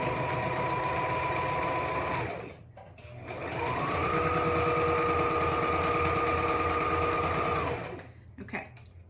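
A sewing machine stitches a seam on a child's hat in two long runs separated by a pause, its motor whirring steadily and close, with a brief stop and restart near the end.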